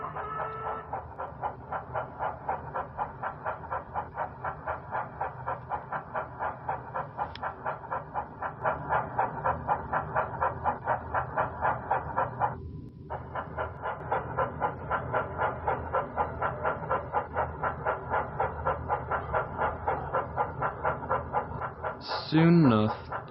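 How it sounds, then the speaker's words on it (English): A steam engine pulls a goods train out of a goods yard, a continuous loud rhythmic chuffing and rumble with a brief break midway and a whistle-like note near the end. "Douglas left to collect his train from Tidmouth Goods Yard"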